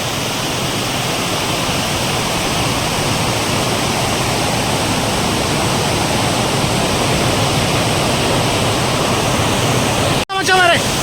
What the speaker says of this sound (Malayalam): നമ്മുടെ വെള്ളം അതിശക്തമായിട്ട് പാറകളിൽ അടിച്ച് തെറിച്ചിട്ട്